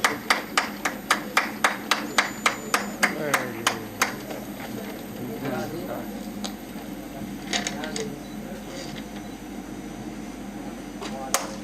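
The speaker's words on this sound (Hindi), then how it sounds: "जोरदार तालियों से महाराज श्री का हम स्वागत करें।" Audience at an award ceremony claps to welcome Maharaj Shri, starting as a crisp, evenly spaced rhythmic clapping, then softening into looser scattered claps under a low room hum.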